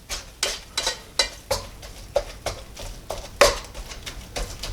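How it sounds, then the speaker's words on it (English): A spatula scraping and stirring eggs in a NuWave oven pan, about a dozen sharp, evenly spaced scrapes under a faint sizzle, close and clear, no voices. "that's where we get in here with the spatula and start scrambling"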